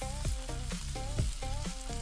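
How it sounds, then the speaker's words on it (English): Fried rice with peas and carrots sizzles steadily in a hot pan, a continuous close frying hiss broken by a few soft scraping stirs, with no talking. "yeah, it's sizzling, Cookie."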